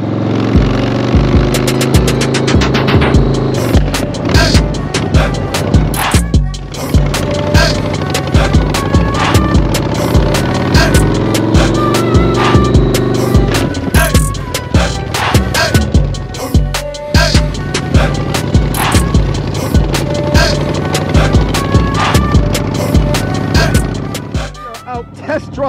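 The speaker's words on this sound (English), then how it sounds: "So now I'm gonna shift through all the gears and make sure everything is synced" A used motorcycle runs through its gears on a test ride, its engine droning loud and close as pitch climbs and drops with each shift, steady over nearly half a minute.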